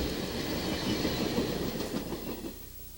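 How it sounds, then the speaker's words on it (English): An Amtrak passenger train rolling along the former Soo Line main out of Chicago, steady rumble with rhythmic clickety-clack of wheels over rail joints, fairly close and gradually easing off. "Northbound number 7 was the first Amtrak train ever to ride the former Soo Line main"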